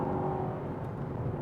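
A 2016 Mercedes-Benz C63 Estate with a 4.0 V8 pulls out to overtake, its engine note a steady, full-bodied drone heard from inside the cabin, continuous and fairly loud throughout with no one talking.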